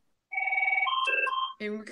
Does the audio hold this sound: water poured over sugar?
no